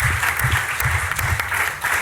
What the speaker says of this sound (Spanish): quiero dar un aplauso